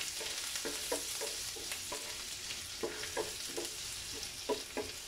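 Onion sautés in a pan for ginisang upo with corned tuna, giving a soft, steady sizzle broken by repeated stirring scrapes at a quiet level.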